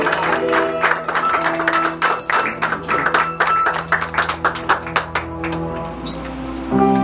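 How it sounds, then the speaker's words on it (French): Wedding guests at the Agora center in Lewiston, Maine clap as a pastor steps up, a steady run of crisp, close hand claps over sustained keyboard-like tones for about seven seconds before the claps fade. "on l'applaudit pour le Seigneur."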